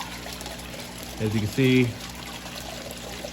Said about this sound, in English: that pump right there. I'm gonna plug it back in. See there she is back in action.